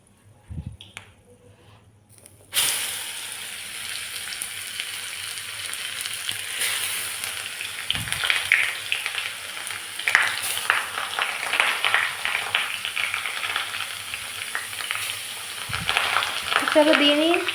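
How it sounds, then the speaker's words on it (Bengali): Grated carrots fry in hot oil for carrot halwa, a loud, steady sizzle that bursts in about two and a half seconds after near-silence and then crackles densely and continuously close by, with a few soft thumps. "এইটাকে এবার ভালো করে একটু ভেজে নেব"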